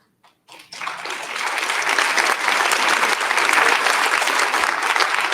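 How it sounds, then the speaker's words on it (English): Conference audience at a national homelessness event breaks into applause after a short quiet start, the clapping swelling quickly into steady, dense, sustained applause that fills the rest of the stretch. "Workforce compensation always gets applause."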